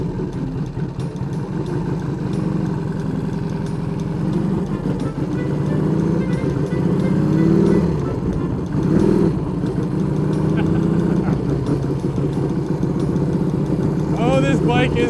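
A Triumph chopper motorcycle engine runs steadily with a low, throbbing rumble, close and loud, mixed with wind noise throughout. A person talks over it in places.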